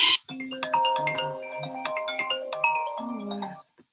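Phone ringtone playing a bright melodic electronic tune, close and clear for about three and a half seconds before cutting off, with no speech.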